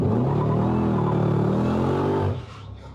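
A HEMI-powered SRT car accelerates hard in first gear, a loud, close engine roar with rising harmonic drone that holds steady, then cuts off abruptly near the end.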